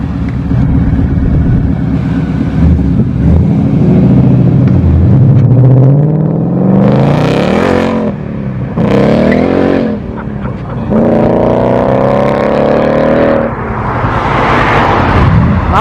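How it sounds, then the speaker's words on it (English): A supercharged classic car at a breakfast sports-car meet revs loudly with rising and falling engine pitch, then accelerates away close by, surges repeating over several seconds. "Maybe we'll get some supercharger whines. It is a supercharged engine after all."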